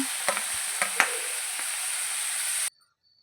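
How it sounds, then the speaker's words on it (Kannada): Tomato and capsicum fry in a hot pan with a steady, loud sizzle, broken by a few sharp clinks from stirring, before the sound cuts off abruptly. "ಟೊಮೊಟೊ ಹಾಕೊತಾ ಇದ್ದೀನಿ ಹಾಗೆ ಕ್ಯಾಪ್ಸಿಕಮ್ ಹಾಕ್ಕೊಂಡು ಚೆನ್ನಾಗಿ ಫ್ರೈ ಮಾಡ್ಕೋಬೇಕು"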